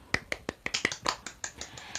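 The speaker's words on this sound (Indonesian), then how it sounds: "Tepuk tangan untuk kita semua" Sharp hand claps in a classroom, roughly a dozen quick irregular smacks over two seconds, close and fairly loud, with a few overlapping as if from several pupils.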